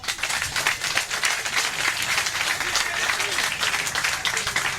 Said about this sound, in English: I want you to clap for her.